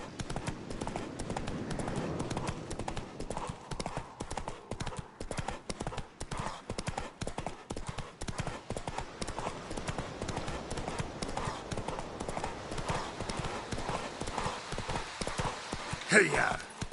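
Clip-clop hoofbeats of a horse galloping steadily in The Witcher 3: Wild Hunt, a continuous driving rhythm with a brief louder accent near the end, while a voice speaks over it.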